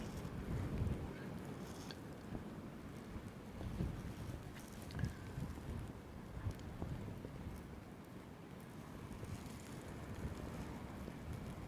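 Strong wind buffets the microphone in a continuous low roar on a hillside near a village while watching for bears, with gusts rising and falling and faint voices in the background.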